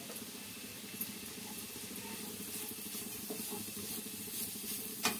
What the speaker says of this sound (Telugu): తోటి క్యారెట్ని కొలుచుకొని అదే నెయ్యిలో వేసుకోండి, వేయించుకోండి బాగా.